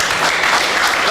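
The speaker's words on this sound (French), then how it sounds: "que vous allez applaudir, s'il vous plaît" Audience applause at a startup round-table, a short, loud, dense burst of clapping from a crowd, close and continuous for just over a second.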